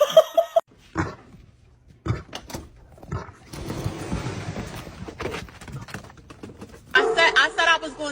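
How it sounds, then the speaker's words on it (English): A dog barks in short loud bursts at close range while a person talks and laughs over it in a home setting. "Stop barking at me."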